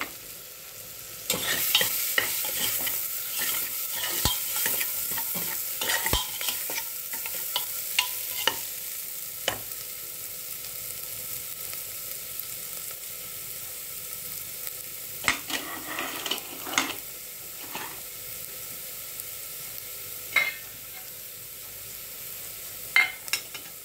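Spices and garam masala fry in a pan for mealmaker curry, giving a steady, soft sizzle. Scraping stirs and clinks recur throughout, sometimes in quick clusters, with no talking.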